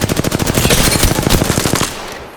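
Rapid automatic gunfire in Apex Legends, a loud, close burst of evenly spaced shots lasting about two seconds before cutting off into a short fading tail.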